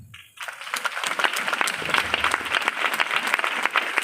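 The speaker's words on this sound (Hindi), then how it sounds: "अपने लिए ताली नहीं बजाएंगे हम," A church congregation breaks into applause after a brief quiet moment, and dense clapping swells and continues steadily.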